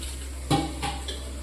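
Gram flour, semolina, salt and yogurt are stirred together in a pot, a spoon clinking against the metal twice over a faint steady background hum.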